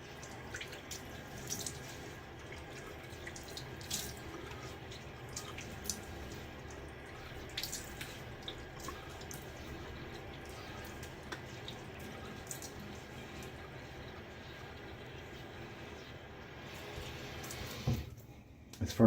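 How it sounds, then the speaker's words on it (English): Water runs steadily from a sink tap as a face is rinsed after shaving, faint and continuous with small splashes and drips throughout. "Let's just rinse off and see how it feels."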